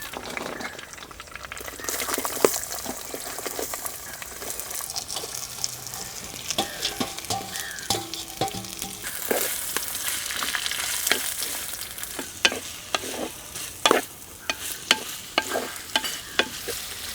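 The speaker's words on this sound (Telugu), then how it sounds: "నూనె వేడెక్కగానే కరివేపాకు బీరకాయ తొక్కు రెండు వేయించుకుందాం" Curry leaves and ridge gourd peel fry in heated oil in a pan for a chutney, a continuous crackling sizzle broken by frequent sharp spatters and stirring scrapes, close up and without speech.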